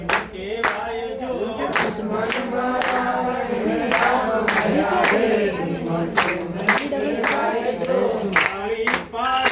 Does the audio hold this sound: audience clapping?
yes